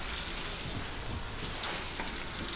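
Food fries in a pan at a high-altitude mountain camp during an acclimatisation trek, giving a steady, dense crackling sizzle that stays even and close throughout, with no voices.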